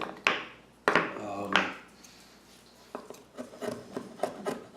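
Knife blade shaving resin-soaked fatwood into fine tinder shavings, heard as a few loud rasping scrapes close by, then quieter, quicker scratchy strokes.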